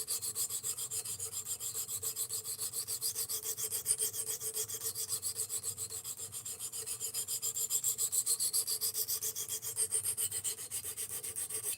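A knife blade grinding on a Work Sharp RMX belt sharpener during reprofiling, giving a steady, continuous rasping rub with a faint high whine that holds throughout, close and alone without talk.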